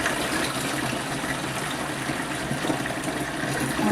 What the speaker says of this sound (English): now what we're going to do is we're going to add some water